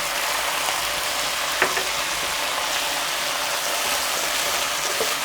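Chicken drumettes being stir-fried in a pan with oyster sauce over medium heat, giving a steady, even sizzle throughout with a faint clink partway through.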